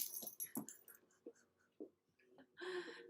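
A dog whimpers softly indoors during a yoga class, with faint short whines and breathy snuffles separated by quiet pauses, then a slightly longer whine at the end.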